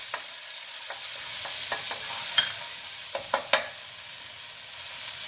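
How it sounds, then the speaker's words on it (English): Ginger, garlic and mint get a quick stir in a hot pan, giving a soft continuous sizzle with several light scraping clicks of a spatula, close and unaccompanied by voices. "Give them a quick stir."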